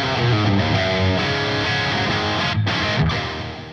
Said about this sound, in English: a fully articulate crunch channel, and absolutely searing overdrive tones